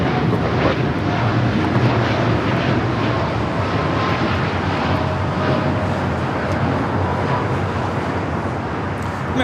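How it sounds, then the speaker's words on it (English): An American Airlines Boeing 787-8 Dreamliner takes off at a busy airport, a steady broad jet roar held at an even level throughout without voices. "taking off to Tokyo Haneda on the 787-8 Dreamliner"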